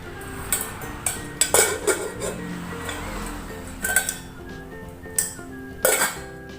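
Oxone OX-933 eco cookware pots with glass lids, stainless steel and wood-look handles being handled, giving intermittent metallic clinks and clanks of lids and pans, close and moderately loud in a quiet room.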